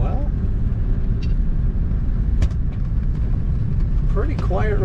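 A 1935 Pierce-Arrow 845 limousine driving at about 35 mph, its engine a steady, quiet low rumble with road noise underneath throughout, and a voice speaking briefly near the end.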